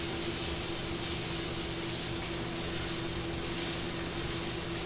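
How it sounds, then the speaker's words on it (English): Garlic sautéing in a pan, giving a steady, loud, continuous sizzle and hiss with no pauses or talking. "to saute the garlic"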